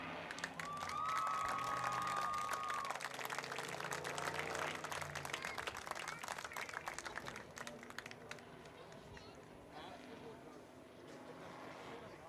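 Crowd at a high school girls' soccer senior night claps and cheers steadily as balloons are released, a dense spattering applause that holds for several seconds and then thins and fades.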